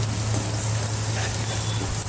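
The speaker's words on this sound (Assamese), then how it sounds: "এয়া লাহে লাহে ভাজি অলপ ৰঙচুৱা হৈ গৈছে" Spices with turmeric and a pinch of salt fry slowly in hot oil in a pan for an Assamese dish, a loud, steady, close sizzle with no talk.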